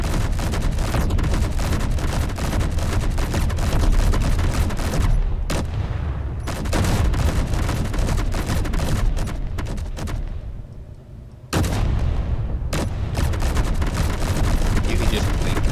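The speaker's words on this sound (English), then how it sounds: "You can just like pound the whole cannon while the main guns are charging" A cannon and main guns firing in the space combat game Space Engineers: dense, continuous rapid blasts and booms, loud and close, with brief gaps of quieter rumble between barrages.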